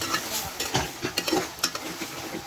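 Potatoes and green chilies fry in a cooked-down spice masala for a dried fish curry, with a steady sizzle under close, repeated scraping and clinking of a spoon stirring the pan; no talk.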